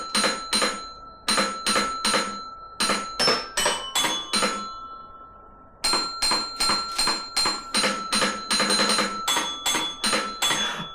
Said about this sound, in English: I want to play Jingle Bells faster.